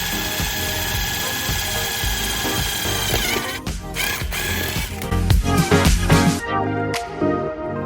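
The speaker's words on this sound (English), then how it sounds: "we're gonna drill a hole right into that circular tab right there with a 5/32" A power drill with a 5/32 bit whines steadily at close range, then grinds unevenly with sharp clicks and bursts as it bites through a metal tab on a 2021-2024 Ford F150 Raptor before stopping.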